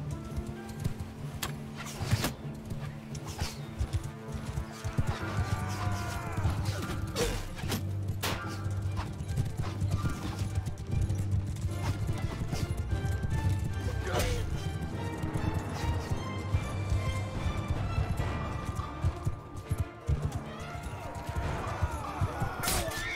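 Horse archers gallop in Mount & Blade II: Bannerlord as a steady mass of hoofbeats, with clattering battle noise and voices shouting over the din.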